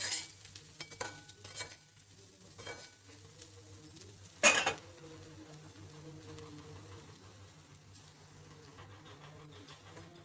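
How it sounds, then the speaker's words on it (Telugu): Bitter gourd pieces fry in a pan with a soft, steady sizzle, broken by occasional stirring scrapes and light utensil clinks, and one sharper clatter midway. "ఈ కాకరకాయ ముక్కల్ని మనం ఇంకొంచెం సేపు వేయించుకుందాము"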